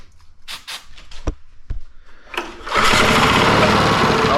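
A small barn-find steam roller's engine with a stuck throttle coughs through a few sputtering attempts, then catches and settles into a loud, buzzing idle at low throttle, close up.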